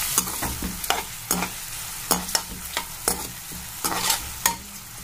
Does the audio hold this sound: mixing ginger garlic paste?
yes